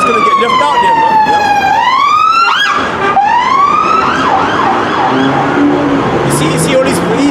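Police car sirens wailing loud and close, sweeping up and down in long rising and falling tones, with a second siren overlapping and traffic noise beneath.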